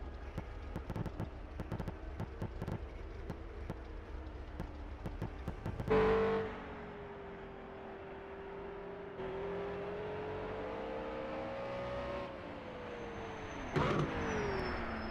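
A race car leaves the pit lane at the Dundrod circuit, its engine whining as it accelerates and holding a steady rising note before fading, followed by another brief engine surge near the end.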